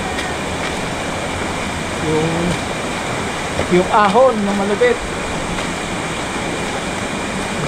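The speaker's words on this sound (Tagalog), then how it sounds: "Dito tayo sa tabi ng ilog dadaan." A river flows beside a hiking trail on Mt. Bisol, a loud, constant rushing of water filling the whole clip while a person speaks briefly in the middle.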